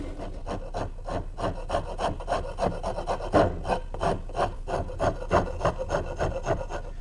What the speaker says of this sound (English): and then shape the rest of it with my wood rasp